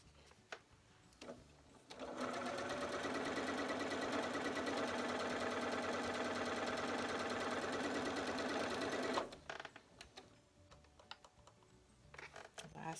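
Sewing machine chain piecing quilt blocks with a quarter-inch foot, running in one steady loud burst of rapid stitching for several seconds after soft handling sounds, then stopping abruptly.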